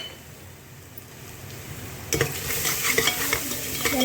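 Spices for masoor dal pulao are stirred in a hot pan, starting with a quiet low sizzle that turns into loud frying with metal spoon scrapes and clinks close up.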